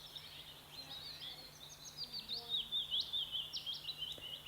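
Recorded birdsong plays quietly in the background of a home tidying session: a stream of high, rapid chirps and trills that grows a little livelier midway, with no talking.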